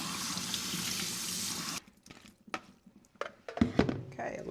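Cold tap water running into a kitchen sink while peeled shrimp are rinsed, a steady splashing hiss that stops abruptly, followed by quiet clinks and handling noises.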